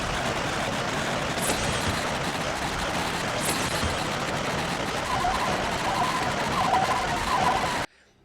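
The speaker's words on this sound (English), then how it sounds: "They make this constant loud rattling noise that we have to hear all the time." Constant loud rattling drone of racing trucks in the video game World Truck Racing, a dense unbroken mechanical clatter running nonstop at steady volume before cutting off abruptly at the end.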